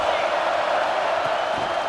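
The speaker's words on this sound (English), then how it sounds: "The Buckeye crowd alive on 3rd down." A stadium crowd at an Ohio State Buckeyes football game, Michigan at Ohio State, roars in a dense, steady wall of cheering that fills the whole moment, with a commentator's voice audible within it.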